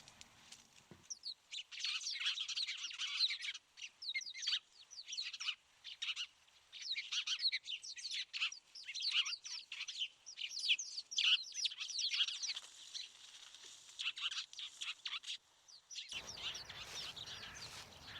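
A flock of sparrows on a farm keeps up dense, overlapping high chirps and twitters for many seconds, fairly faint and continuous, with a burst of wind noise near the end.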